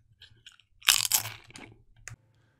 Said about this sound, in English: Well, can you chew any louder?